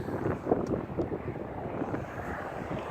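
Strong wind gusts buffet the microphone on a rooftop, with low, uneven rumbling that swells and eases in bursts and occasional sharp knocks, no voices present.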